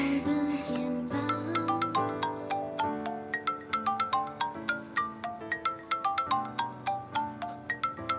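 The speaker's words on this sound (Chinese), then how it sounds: "我接个电话。" A telephone ringtone plays a bright, repeating chime melody of evenly spaced tones, clear and fairly close, continuing for several seconds with no talk over it.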